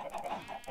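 Chickens on a Minecraft Farmcraft server give a quick run of soft, overlapping game clucks, faint and close together, with no speech.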